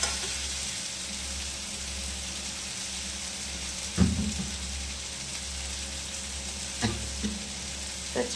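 Taro stolons (kochu lati) dropped into a frying pan of hot oil, giving a steady sizzle with a few sharp clatters and stirring knocks at intervals, nearby and with no talk.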